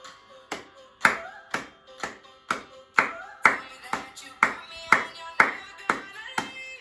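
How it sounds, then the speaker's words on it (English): Hands clapping along to the beat of a pop song, a steady series of about fourteen sharp claps evenly spaced, close and clear, each ringing briefly with faint music beneath. "I want you to hear how I clap along to the beat"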